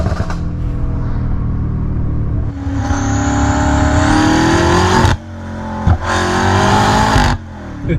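A BMW F90 M5 accelerates hard, its engine rising loud and close through the revs, broken by two sharp gear-change dips before climbing again.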